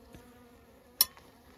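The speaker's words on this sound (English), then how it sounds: "the bees, not being accustomed to my presence, are kind of pretty inquisitive as to what's happening" Honeybees hover around an open hive during an inspection, making a faint, steady hum close by. A single sharp click cuts through the drone.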